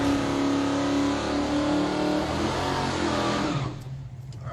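A drag car roars loudly as it accelerates hard down the strip, a sustained engine drone whose pitch shifts before the sound drops away as it pulls into the distance.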